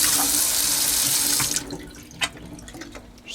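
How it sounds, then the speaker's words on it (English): A machine's hose chamber gets rinsed in a sink. A loud, close stream of tap water runs for about a second and a half, then stops, leaving a few scattered drips and light clinks. "Give it a little rinse."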